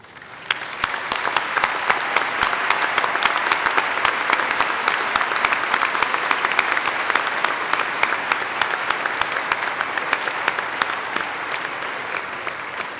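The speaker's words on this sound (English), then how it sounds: "ladies and gentlemen, join me in applauding these outstanding students." Large commencement audience applauding honors graduates at a spring ceremony, sustained loud clapping from many hands, dense and even for the whole stretch after a quick swell at the start.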